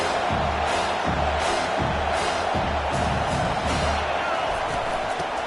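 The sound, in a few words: football stadium crowd cheering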